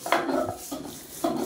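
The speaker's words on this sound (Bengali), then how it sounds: "কুমড়ো শাকটা ভাজা করে এবার পাটায় বেটে নেওয়া হচ্ছে" Fried pumpkin greens ground on a stone slab with a stone roller, three soft, close rubbing strokes in an even rhythm with no talking.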